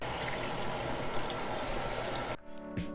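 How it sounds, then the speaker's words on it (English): Running water pours steadily through two cups of white sushi rice in a fine mesh strainer, a loud continuous rush that stops abruptly near the end, leaving faint clinks and a brief trickle. "I'm rinsing 2 cups of white sushi rice for 1 to 2 minutes or until the water runs clear"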